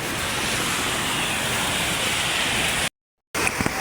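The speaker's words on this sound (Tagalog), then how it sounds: "Grabe, lakas pa ng dagat eh." Strong sea waves crash on the shore in a continuous loud roar of surf mixed with wind, close by, briefly cut to silence before resuming.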